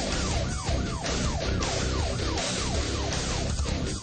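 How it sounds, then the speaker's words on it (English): Several Tyler Police Department patrol cars running sirens during a vehicle pursuit, their wailing tones sweeping up and down continuously and overlapping, loud and close throughout with engine rumble beneath. "Probably 4 Tyler Police Department patrol cars running lights and sirens."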